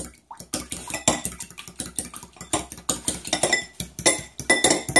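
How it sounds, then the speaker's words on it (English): An egg is beaten in a bowl while making empanada dough. A fork or whisk clinks against the bowl in quick, rhythmic strokes, close up and steady for several seconds with no talking. "I'm just going to beat my egg."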